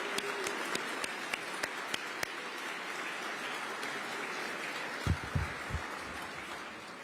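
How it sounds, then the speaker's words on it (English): An audience at a Veterans Day gathering in New York City claps in a room, a soft continuous patter with a few sharper individual claps standing out and some low thumps near the end. "give your neighbor a round of applause"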